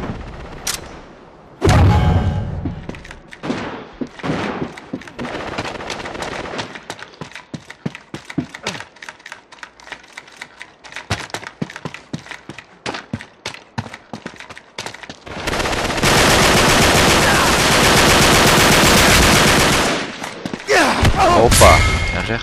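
Gunfire from the shooter game Uncharted 3: dense bursts of rapid shots and heavy impacts, with a long loud stretch of sustained firing and explosions near the end, loud and up close.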